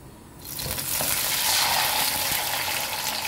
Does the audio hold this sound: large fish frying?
yes